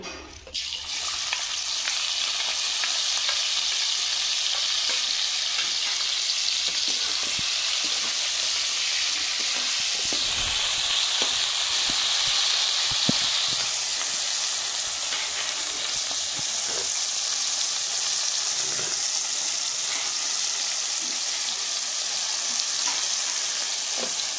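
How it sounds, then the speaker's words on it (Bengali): Prawns frying in white oil in a wok give a loud, close, steady sizzle that hisses continuously, with scattered crackles and pops, and no voices. "দেখুন চিংড়ি মাছ ভেজে নেব"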